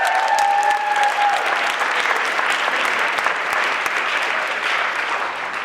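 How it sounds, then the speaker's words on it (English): Steady, dense applause from a school band concert audience fills the hall, loud and continuous throughout, with a faint sustained tone early on. "How about a round of applause for these folks?"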